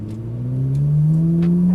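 A Ferrari 458 Italia engine revs up on a race track, a loud, rising tone climbing smoothly in pitch over under two seconds, close and alone without speech.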